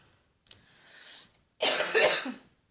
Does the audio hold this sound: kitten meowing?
no